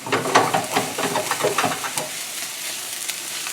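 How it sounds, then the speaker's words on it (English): A small slice of butter melts in a hot pan for an end-of-summer pasta, crackling and sizzling busily up close at first, then settling into a softer, thinner hiss. "Let me cut this little slice of this butter in there."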